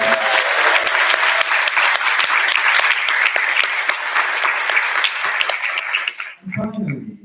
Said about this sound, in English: So we'd like a round of applause for all the expos.